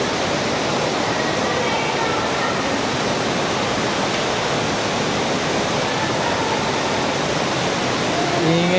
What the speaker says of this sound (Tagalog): Ingay ng agos ng ano, ng pulse dito sa ilalim ng kuweba.